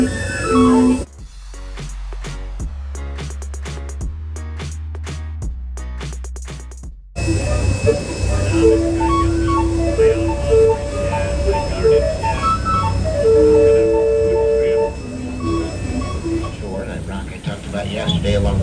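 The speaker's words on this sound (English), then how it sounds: "Here's the calliope." A steam calliope aboard a riverboat plays a run of loud, piercing whistle notes in short bursts, then continues as sustained tones amid busy outdoor noise and people talking nearby.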